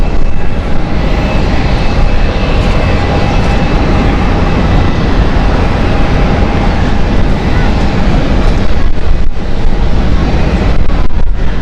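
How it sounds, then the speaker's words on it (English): A KLM Airbus A330 taxis toward the runway at Amsterdam Schiphol Airport, its jet engines giving a loud, steady broadband roar with a faint whine that stays constant across the whole stretch. "And another KLM A330 is currently taxiing to runway, this time runway 18 left."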